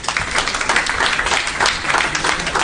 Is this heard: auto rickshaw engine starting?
no